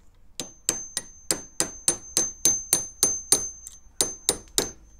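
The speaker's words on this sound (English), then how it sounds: "I think it's this chasing hammer. It's got this nice steel on it. I don't know why it's ringing so much." A steel chasing hammer taps repeatedly while a bezel is set, about fourteen sharp ringing metallic strikes at a steady, even pace, close and clear, with no voices.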